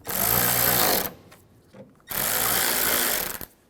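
A power tool tightens fasteners on a 2005-2010 Chevy Cobalt tail light in two loud, close bursts of whirring and rattling, separated by a short pause with faint clicks.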